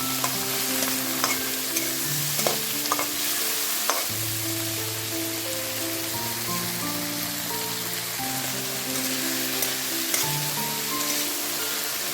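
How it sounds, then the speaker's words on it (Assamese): Constant crackling sizzle of tomatoes frying in a pan with salt and turmeric, with occasional stirring scrapes and low background tones throughout. "এতিয়া কাটি লোৱা বিলাহীখিনি দি আৰু এবাৰ ভাজি ল'ম"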